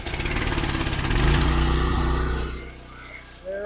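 A small gas engine on a pressure washer, choked and cranked, catching with a loud pulsing rattle and revving briefly before dropping off.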